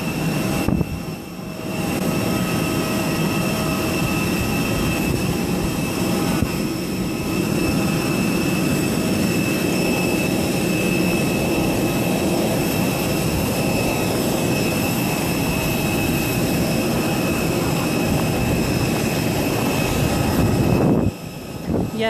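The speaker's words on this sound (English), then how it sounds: "A321 Philippine Airlines, Calibo to Manila. First time flying Philippine Airlines." Steady loud roar of a Philippine Airlines Airbus A321's jet engines in flight from Kalibo to Manila, a constant cabin drone with high whine holding evenly throughout.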